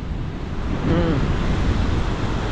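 Waves wash along a seashore as people walk the beach, a steady broadband surf rush mixed with wind noise and a low rumble, with a faint tonal hum briefly in the middle.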